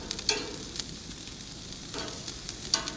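Broccoli charring on a hot grill makes a steady soft sizzle and crackle, with a few sharper scraping or stirring touches from a utensil, quiet and continuous with no talk.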